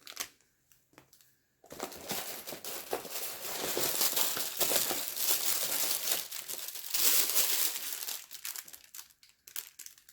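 An MRE beverage bag is handled up close. Loud, continuous plastic crinkling and rustling lasts about eight seconds, then fades to a few softer crackles.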